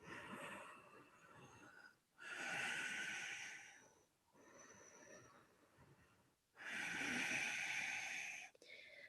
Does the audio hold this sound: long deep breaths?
yes